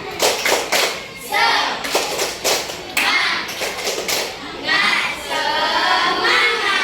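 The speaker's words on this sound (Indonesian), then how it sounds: "Dan tepuk semangat." Schoolchildren standing in a classroom clap a rhythmic spirit cheer together, with loud, sharp bursts of hand claps in a patterned beat and some chanting voices mixed in.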